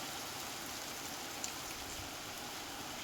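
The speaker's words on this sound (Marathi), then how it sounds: "बाहेर पाऊस पडत आहे" Rain falls steadily outside at night, a soft, even hiss that continues without a break, with no voices over it.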